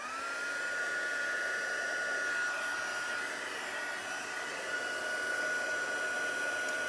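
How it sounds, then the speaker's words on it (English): A heat gun blows hot air in a constant, even whoosh with a faint steady whine, melting embossing powder on a Christmas card sentiment; the sound runs unbroken throughout. "Grab my heat gun. Right, this is a bit noisy"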